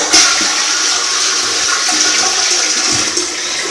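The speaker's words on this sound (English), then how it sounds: "We're going to give it one more flush just for good measure." A toilet flushes loudly and close up, water rushing steadily for several seconds with no talking.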